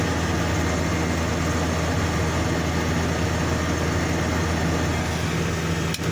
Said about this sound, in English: And we're spraying.